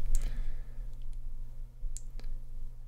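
Mouse clicks on a computer while previewing a web gallery page in a browser, two faint, sharp clicks spaced about two seconds apart over a steady low electrical hum.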